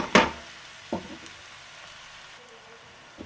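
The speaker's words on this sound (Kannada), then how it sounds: "2 ಈರುಳ್ಳಿ ಸಣ್ಣ ಕಟ್ ಮಾಡಿ ಹಾಕಿದ್ದೀನಿ. ಇದು ಸ್ವಲ್ಪ ಫ್ರೈ ಆಗಬೇಕು." Two finely chopped onions frying in a pan, giving a faint low sizzle broken by a couple of sharp stirring clinks and scrapes early on.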